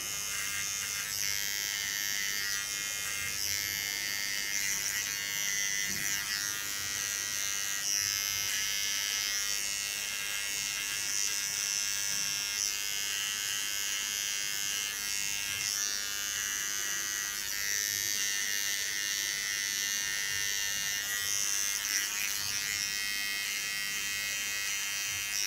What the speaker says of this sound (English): Hold my clipper almost upside down, get very near to the skin.